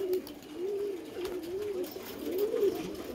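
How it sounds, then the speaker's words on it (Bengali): Pigeons coo on a roof at a pigeon keeper's home in Nadia district, a close, repeated rolling coo rising and falling over a few seconds with soft background noise. "চালের উপরে অনেক পায়রা আছে"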